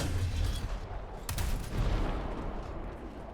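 Tank cannon fire in War Thunder with APCBC rounds: a loud sharp shot near the middle over a continuous rumbling battle din of engine and gunfire-like noise, with no talk.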